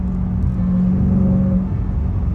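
A C8 Corvette's engine gives a steady, low, droning rumble, close and continuous throughout, with no talk over it.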